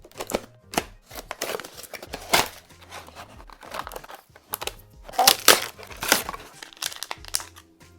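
Plastic and cardboard packaging of a Jakks Pacific Super Mario Bros. Movie pull-back kart toy crinkles and tears in close, irregular bursts of rustling and crunching, with no talk over it.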